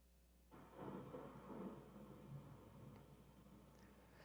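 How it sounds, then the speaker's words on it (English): Rain and thunder, a broad rumbling roll that swells in after a quiet start and keeps up a steady rushing wash, faint and distant in tone. "the sounds of rain and thunder,"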